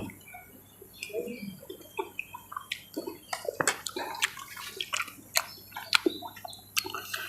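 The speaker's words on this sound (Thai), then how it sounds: "คือฝนติดตกอีกแล้วครับ" Rain falls in a rural area near reservoirs, with a soft watery hiss and irregular close drips and splashes pattering throughout, along with faint bird calls in the background.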